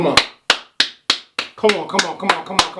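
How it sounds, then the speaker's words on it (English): One person claps sharply and evenly, about ten crisp, close claps spaced roughly a third of a second apart, with a voice speaking over the later claps. "Let's clap it up for this LA Laker team"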